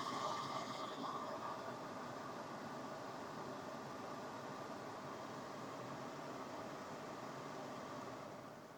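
MG Astor 2024 SUV air conditioning set to 24 degrees, blowing a steady broadband rush of air, fairly loud and constant throughout, with no talking.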